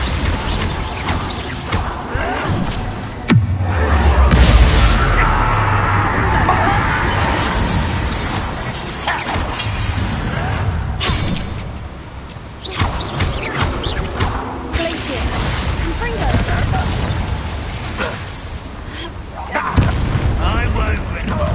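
Confringo blasting spells in Hogwarts Legacy go off as repeated loud booming explosions and impacts with a crashing debris rattle, spread through a busy combat mix, with a character's voice heard at times.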